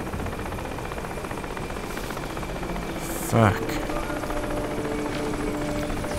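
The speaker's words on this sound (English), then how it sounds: "Is this an enemy helicopter?" An enemy helicopter in the video game Crysis drones as a steady, loud rotor roar throughout, while a man briefly swears partway through.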